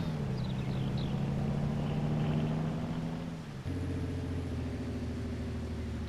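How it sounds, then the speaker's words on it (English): A heavy truck engine in Farming Simulator 19 idles with a steady low rumble, shifting to a deeper, lower drone partway through, with no talking. "Oh, this truck sounds so nice."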